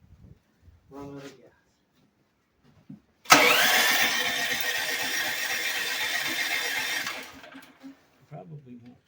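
A Champion portable generator engine is restarted: a sudden loud roar that runs steadily for about four seconds, then winds down and stops, with someone talking briefly before and after.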